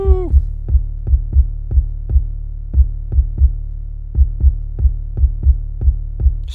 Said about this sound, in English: never imagined in my life to use reverb on an 808, but it sounds insane